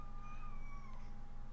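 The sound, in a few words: cat meowing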